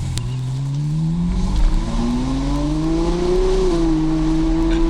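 Tuned Ferrari F12 with an open FI exhaust and DME tune accelerating hard, a loud close engine note with harmonics that climb steadily, then briefly dip and level off.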